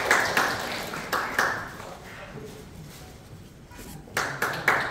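Audience applause at a Korean knowledge forum ceremony honoring a poet, bursts of clapping at the start and again near the end, with a quieter stretch in between.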